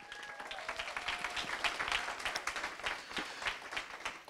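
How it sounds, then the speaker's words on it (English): A crowd at a competition event applauds its jury: many hands clapping at a moderate distance, with a rippling, uneven texture that swells slightly around the middle and continues for about four seconds. "Give a big round of applause for our jury."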